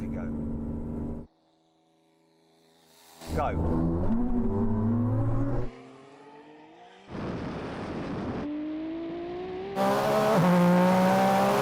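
A 3000 hp SUV and a Ferrari SF90 in a drag race accelerate hard, engine tone climbing through gears in loud rising sweeps with brief gaps between bursts.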